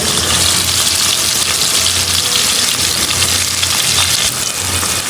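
Chopped onion frying with dal in a hot pan, giving a loud, continuous sizzle with a steady, dense crackle that holds up from start to finish.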